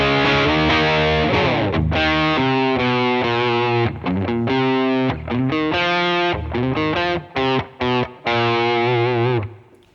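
An electric guitar with Seymour Duncan Saturday Night Special pickups, set to the middle position with the neck pickup rolled back slightly, plays loud distorted chords and riffs, sustained at first and then in choppy stops and starts.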